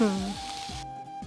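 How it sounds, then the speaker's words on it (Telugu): Vegetables frying in a pan give a steady close sizzle with stirring, cut by a brief musical tone at the start and a sudden drop near the end. "సో ఇవి కొద్దిగా ఫ్రై అయ్యేలోపు మనం క్యాప్సికమ్ కట్ చేసేసుకుందాం అశ్విని"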